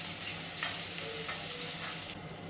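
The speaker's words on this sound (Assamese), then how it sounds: "তাৰপিছত দি দিলোঁ পিঁয়াজখিনি আৰু বৰ ধুনীয়াকৈ ভাজি" Onions frying in a pan with a little cinnamon, a steady soft sizzle with a few faint scrapes of stirring, fairly quiet and close, with no talking.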